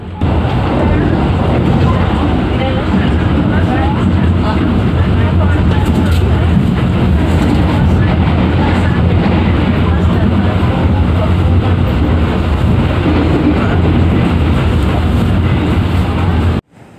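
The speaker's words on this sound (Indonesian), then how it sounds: "kereta api Ranggajati diberangkatkan dari Stasiun Besar Solo Balapan" Continuous low rumble of the Ranggajati executive train pulling out of Solo Balapan station, a steady, even roar that holds for the whole stretch before cutting off abruptly at the end.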